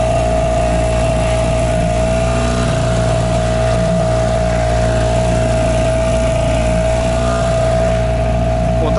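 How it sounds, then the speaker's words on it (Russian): A steady Hidea 5 outboard motor on a Flagman 380 boat drones loudly and continuously, a constant engine whine with water and hull noise underneath, close by. "как мотор себя поведет вообще"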